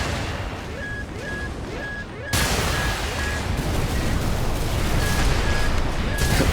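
Bazooka fire and explosions in a PvP video game battle: loud, continuous rumbling blasts and booms. A sharp jump in intensity partway through, with repeated short electronic beeps layered on top.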